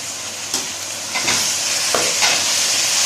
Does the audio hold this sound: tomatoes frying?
yes